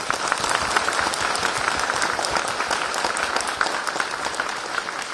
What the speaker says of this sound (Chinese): 让我们用热烈的掌声欢迎尊敬的索达吉堪布